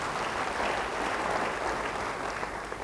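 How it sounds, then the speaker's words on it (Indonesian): A church congregation applauds during a sermon, a dense steady wash of clapping from a large crowd at a moderate distance, continuous throughout. "Yang mau beri tepuk tangan yang baik bagi dia."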